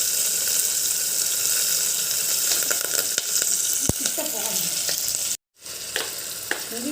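Onions frying with spices in a pan for boti curry, a close, steady sizzle with scattered clicks and stirring knocks, briefly cutting out near the end before resuming.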